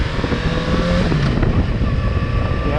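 A motorcycle pulls away in second gear, its engine droning steadily and rising slightly in pitch as it accelerates, loud and close with wind rush around it.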